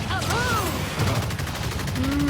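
Rapid bursts of gunfire from the video game Evolve, a monster-hunting shooter, crackle loudly in quick repeated volleys while players talk over them.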